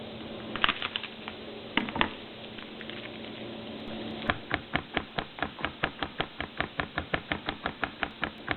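Knife mincing garlic cloves on a cutting board for crawfish étouffée, starting with a few scattered cuts, then a steady run of sharp, even chops close by with no talking.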